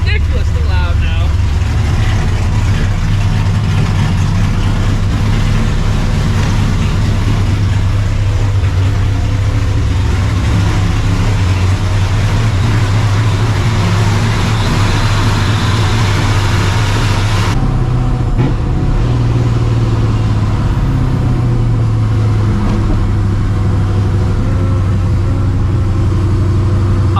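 A 600HP procharged New Edge Mustang GT rumbles loudly at idle, a deep, steady engine drone running throughout while someone talks over it.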